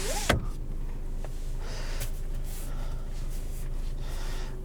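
The sunroof motor of a 2020 Volkswagen Passat SEL whirs quietly at steady pitch inside the cabin after a short click at the start, faint and without talk.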